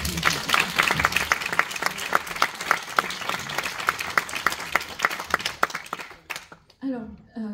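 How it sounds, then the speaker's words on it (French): Audience applause at a Korean film festival masterclass in Paris, welcoming director KIM Won Kuk: steady dense clapping for about six seconds, then fading quickly as a voice begins speaking. "Déjà, on peut peut-être l'applaudir en fait."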